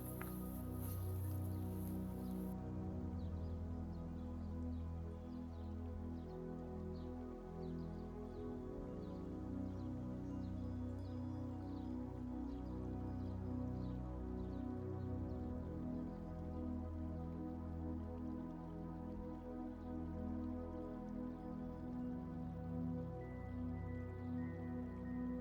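Light rain begins falling in a garden, a faint, steady patter of drops on surfaces and leaves that continues evenly throughout with no voices.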